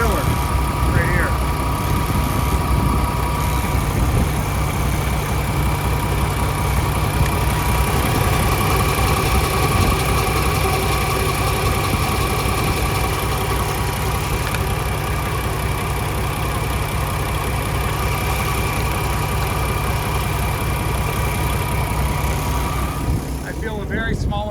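A Paccar MX diesel in a 2020 Peterbilt 579 idles steadily, heard up close at the filler as a constant loud rumble with a droning hum that barely changes.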